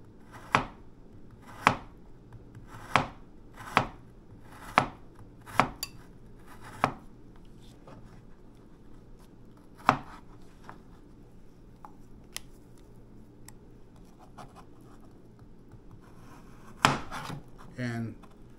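Frozen strawberries are sliced on a cutting board: a run of crisp, evenly spaced knife chops that trails off into sparse cuts, followed by a brief cluster of scraping near the end, all close and without speech.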